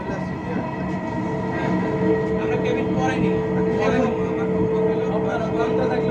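A steady hum and rumble of a Dhaka metro train in motion toward Agargaon, heard from inside, continuous and fairly loud with faint tonal whine.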